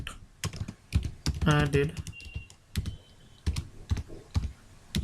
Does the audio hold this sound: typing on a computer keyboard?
yes